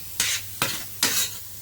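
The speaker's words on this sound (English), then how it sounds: "we're now frying the bacon up." Bacon frying in a pan, sizzling in three loud bursts as strips are stirred or turned, each burst fading back to a steady quieter crackle, no talking.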